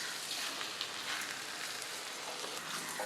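Chicken pieces for a spicy Tamil-style chicken semi-gravy hit a hot pan with sautéed aromatics, giving a steady, fairly quiet sizzle and hiss that runs evenly throughout with no talking.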